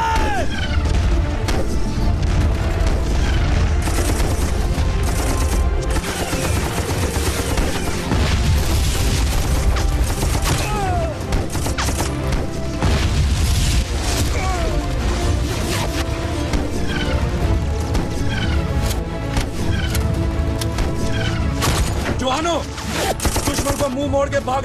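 A battle scene from a war film about the 1965 Indo-Pakistani War has dense artillery booms and gunfire. Repeated loud blasts and bursts of shots continue without a break, with some voices mixed in.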